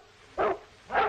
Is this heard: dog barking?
yes